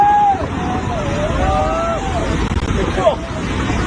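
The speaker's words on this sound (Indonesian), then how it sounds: "Rekaman ponsel warga memperlihatkan detik-detik banjir lahar hujan Gunung Semeru saat menerjang wisata air terjun Tumpak Sewu" A volcanic mudflow flood from Mount Semeru surges through the Tumpak Sewu waterfall, a loud continuous roar of rushing water and debris heard close on a phone recording, with voices shouting faintly beneath it.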